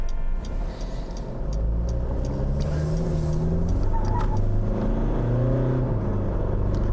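A 2020 Mitsubishi Pajero Sport Exceed accelerates onto a highway, its engine heard from inside the cabin as a loud, steady low rumble that rises in pitch through the gears over a constant road roar.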